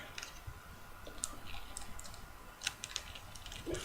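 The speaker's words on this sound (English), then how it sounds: "Open up this flap, fold, make a mountain fold right into here." Paper being folded by hand into a Slave I model, with quiet, crisp crinkles, soft creasing rubs and scattered light taps, close and faint, with no talking.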